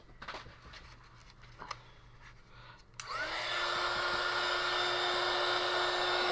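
A heat gun switches on about halfway through and roars steadily while drying watercolor paint, after a stretch of quiet low room noise with a few faint knocks.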